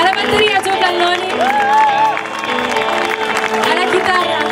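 A concert audience applauds and cheers for a band during band introductions, a continuous clapping wash under someone speaking loudly over it.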